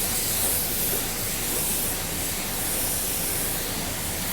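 A 1.2 spray gun lays a single coat of sealer onto a car's blend area near the driver's side fender, giving a steady, close, continuous hiss with no pauses.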